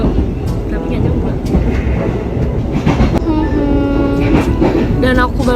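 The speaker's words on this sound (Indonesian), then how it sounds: "Dan aku baru sadar ternyata keretanya berjalan mundur." A passenger train rolls backwards along the rails, its steady clickety-clack and rumble continuous and loud throughout, with faint voices and a short tonal whine rising near the end.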